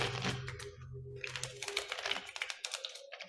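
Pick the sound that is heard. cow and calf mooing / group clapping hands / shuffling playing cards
shuffling playing cards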